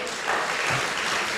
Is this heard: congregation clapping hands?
yes